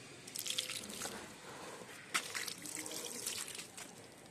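Water poured onto potted garden flowers such as dahlias, chrysanthemums and marigolds, a soft steady splashing and trickling with a brief louder gush partway through, heard up close and fairly quiet.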